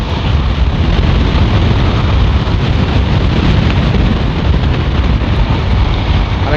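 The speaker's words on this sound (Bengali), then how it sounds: "প্রচুর পরিমাণ বাতাস" Strong highway wind roaring steadily and loudly past a moving motorcycle, a dense broadband rush that continues unbroken with no talk.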